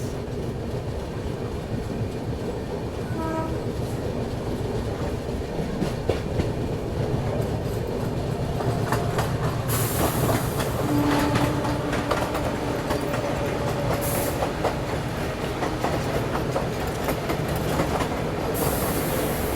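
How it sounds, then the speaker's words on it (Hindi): The Benares Vande Bharat Express passes by on rails with a loud, sustained rumble, rhythmic clickety-clack of wheels and brief high squeals, steady and close throughout without talk. "बनारस वंदे भारत एक्सप्रेस।"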